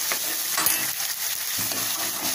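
Onions fry in an oil tempering over a medium flame for hotel-style Bombay saagu, giving a close, steady sizzle broken by a few stirring scrapes, with no talking.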